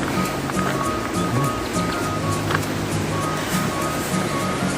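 A river flows nearby on the way to a waterfall, its water rushing in a steady broadband wash with faint background tones and no voices.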